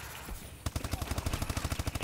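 A Speakeasy submachine gun in a video game, opening after a brief quiet moment into a rapid, evenly spaced burst of loud shots that continues to the end.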